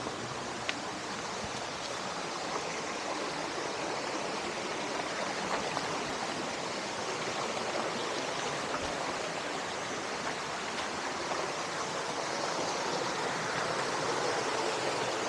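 Rushing water of a waterfall's second tier on a mountain hike in the Philippines, a steady broadband roar filling the whole clip at close range with no talk.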